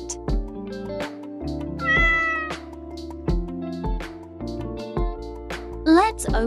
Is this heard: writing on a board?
no